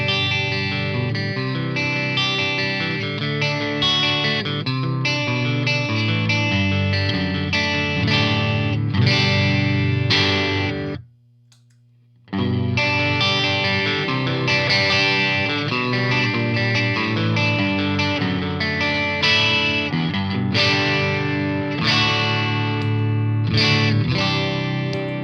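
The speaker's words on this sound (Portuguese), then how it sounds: "Então esse é o som do amp sem nada, o semi-clean dele" An electric guitar is played through an amplifier's semi-clean channel with no pedal, giving sustained, slightly gritty, mid-forward chords and riffs that continue steadily apart from one brief pause.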